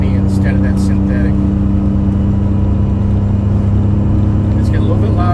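Constant low drone and whine from a 4106 bus with a V730 transmission running motor oil instead of synthetic, cruising at 65 mph; a steady loud engine and drivetrain hum fills the cab while a person talks over it.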